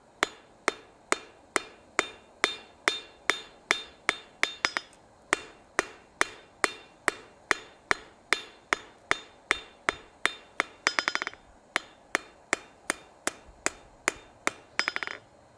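Hammer blows on hot steel at an anvil while forging a decorative hacksaw, a long steady run of sharp, ringing strikes about twice a second, close and clear with brief faster flurries and no talking.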